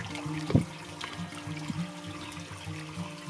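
Steady water trickling and gurgling out through a tunnel toward the River Barle on Exmoor, with a brief louder splash early on; a constant low wash of flowing water throughout, moderately faint.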